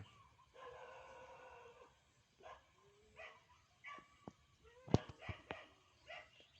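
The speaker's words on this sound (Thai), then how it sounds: "ได้ยินเสียงเห่าแล้ว" Faint, distant dog barks and yips come in a few scattered outbursts at an outdoor rural spot where grass is being cut, with a quiet background.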